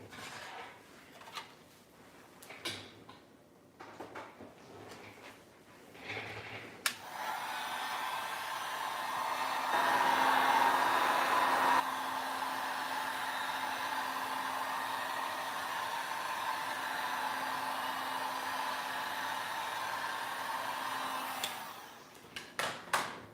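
A heat tool blows a steady, loud whooshing hum while it warms an iPad Mini during a repair, running for about fifteen seconds after some scattered handling noises and then cutting off.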